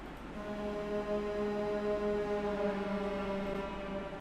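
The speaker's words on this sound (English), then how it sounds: "and then also this weird lead sounds like this." A sustained, wavering synth lead shaped with EQ and reverb holds steady tones throughout, alone and fairly quiet, for a bass house track.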